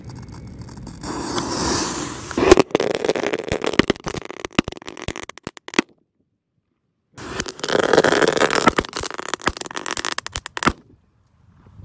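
Fireworks being lit set off loud, dense crackling and fizzing bursts that run for several seconds, stop in a brief silence, then erupt again before cutting off.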